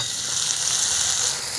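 Leafy greens dropped into a hot pan with vegetables, giving a loud, continuous close sizzle throughout.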